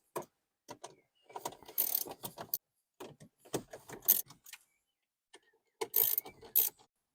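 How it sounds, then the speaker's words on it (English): A T20 Torx driver backing out screws from a car stereo in a Passat B6 R-Line, intermittent ratcheting and scraping metallic clicks in short bursts separated by pauses, close and fairly loud. "This is a T20. That's all we need to take out these 4 screws."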